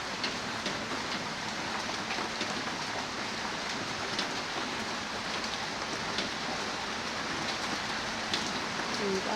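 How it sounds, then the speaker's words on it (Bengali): Steady rain falls over an open outdoor area where freshly planted seedlings sit, a dense continuous hiss of drops on surfaces with no pauses, loud and even throughout. "বৃষ্টি শুরু হয়ে গেছে।"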